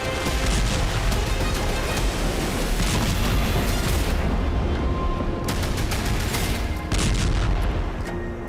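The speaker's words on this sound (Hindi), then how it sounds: "राजधानी कीव से लेकर सीमा के करीब सूमी तक धमाके।" Explosions from Russian missile strikes on Ukrainian cities such as Kyiv and Sumy, a continuous roaring barrage of blasts and rumbling impacts, loud and dense throughout with a few sharper cracks standing out.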